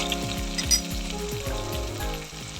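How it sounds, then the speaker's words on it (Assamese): A spice paste fries with onions in a pan, a loud, continuous close-up sizzle with bubbling crackle and a few stirring scrapes, no voices. "এতিয়া মই এই পেষ্টখিনি এই পিঁয়াজখিনিত দি দিম আৰু ভালদৰে ভাজি ল'ম।"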